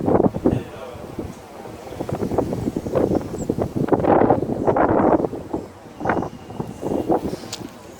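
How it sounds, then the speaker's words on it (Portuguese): Wind blows in strong, uneven gusts, roaring and buffeting against the microphone with a rushing, surging texture, loud and close, swelling and easing in waves. "o vento sopra onde quer, você ouve o barulho que ele faz"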